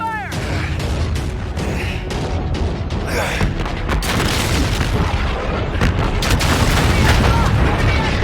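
Futuristic Call of Duty warfare scene full of dense, continuous gunfire and booming explosions, loud and sustained throughout, with shouted voices mixed into the battle.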